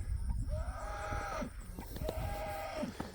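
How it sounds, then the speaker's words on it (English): A neighbor's cow lows twice from some distance on a farm, each long moo rising and falling over steady outdoor wind and rustling. "That's my neighbor's cow."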